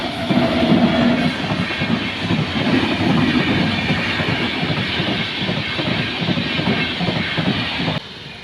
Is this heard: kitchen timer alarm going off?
no